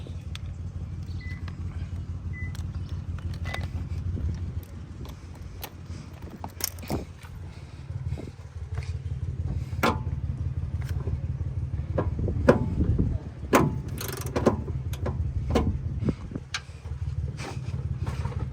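A ratchet works loose the 10 mm bolts on the rear coils of a 2005 Toyota Avalon XL, with rapid clicking bursts, metallic taps and clinks over a low steady hum, close and continuous.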